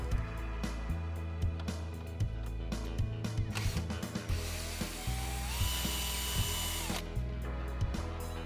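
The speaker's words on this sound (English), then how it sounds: "So using a Phillips head screwdriver, we're able to remove them from either side." A Phillips head screwdriver removes the side arms from an MGI Navigator Quad gyro golf trolley, giving repeated short clicks and mechanical ratcheting taps close by, with a brief whirring stretch near the middle.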